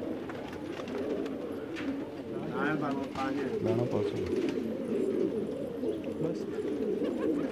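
Desi and colored pigeons coo in a low, steady murmur, with a few wing flutters and faint chatter mixed into the background.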